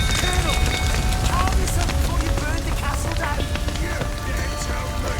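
Dense rain patters loudly and continuously in the video game The Witcher 3, mixed with crackling and scattered tonal chirps, with voices faintly underneath.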